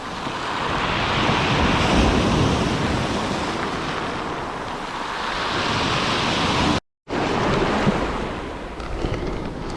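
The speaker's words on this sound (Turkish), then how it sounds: "Epeyce bir dalga var." Continuous crashing ocean surf on the shore with rolling swells of noise and strong wind gusts, loud and close, briefly cut to silence near the end.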